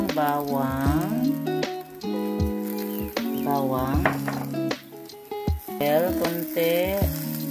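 Garlic and rosemary fry in a pan for ratatouille, giving a close sizzle mixed with stirring clatter and utensil scrapes against the cookware while people talk over it.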